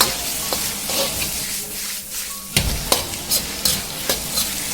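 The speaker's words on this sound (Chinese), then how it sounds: "开大火，快速翻炒，化开调料，炒出锅气" Wood ear mushrooms stir-fried in a wok over high heat give a steady crackling sizzle, with repeated sharp scrapes and clacks of the spatula tossing them at a quick, uneven rhythm; nobody speaks.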